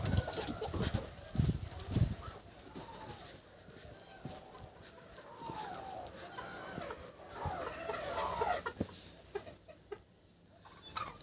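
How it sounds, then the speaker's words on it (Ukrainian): Chickens cluck and murmur in a busy coop, with soft cooing and rustling; a few louder thumps and knocks break through now and then. "Що ті кури роблять? Курличать, наче ці, наче чуєте?"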